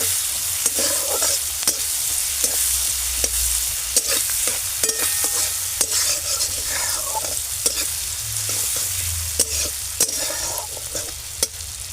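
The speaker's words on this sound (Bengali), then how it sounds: "পেঁয়াজ কুচানোটা এবার তেলের উপরে দিয়ে দেবো। পেঁয়াজটা একটু ভালোভাবে ভেজে নেব তেলে দিয়ে।" Chopped onions frying in oil in a pan, a steady close sizzle punctuated by repeated scraping and clinking as a spoon stirs them, no voices.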